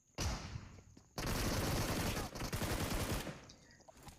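Gunfire in the BGMI battle royale game: two loud, dense bursts of rapid shots, a short one and then a longer sustained volley, with sound-effect noise between them and no talking.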